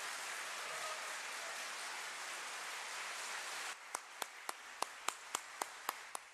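An audience at a gathering applauds in a dense, crackling burst of many hands for about four seconds, then it cuts off abruptly, leaving a handful of sharp, isolated single claps spaced out at the end.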